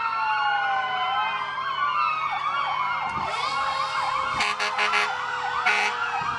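Fire engine sirens from Westminster Fire Department at a Civic Days parade in Fitchburg, MA, wailing loudly with several overlapping rising and falling tones, joined by short bursts of horn blasts.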